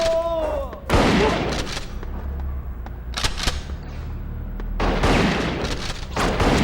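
Gunfire in Bad Boys Miami Takedown, loud repeated bursts of shots and booms in several clusters with short gaps between them, and a voice briefly heard among them.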